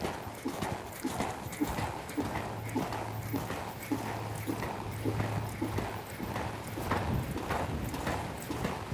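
A horse canters over ground during a fox hunting horseback lesson, its hooves giving a steady rhythmic clip-clop at moderate distance with faint background noise and no talk.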